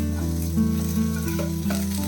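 Sliced onions sauté over medium flame in a pan for mushroom masala, sizzling loudly and evenly up close with intermittent stirring scrapes and no voices.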